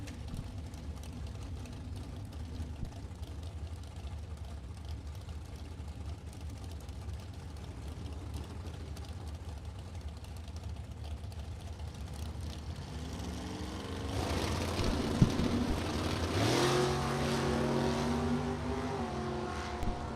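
A drag race between a 1957 Chevy with 582 cubic inches and a 1979 Camaro with a 383 small block, heard as a distant engine drone that swells into a rising roar as the cars launch and run off.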